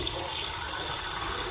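Water running steadily over cut pieces of fish being washed by hand in a Bengali home kitchen, a continuous close rush with no talk.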